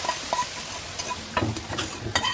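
Garlic and onion paste sizzles as it is stirred into frying vegetables, with short bursts of frying and a few clicks of a spoon against the pan, close and fairly quiet.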